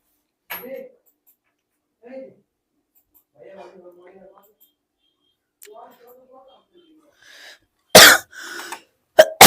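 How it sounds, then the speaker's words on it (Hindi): A man teaching a physics lesson coughs: two harsh, loud bursts near the end, following several quieter throat and voice sounds spaced through an otherwise silent stretch. "बहुत खांसी पता नहीं क्यों अचानक बढ़ गई आज फिर।"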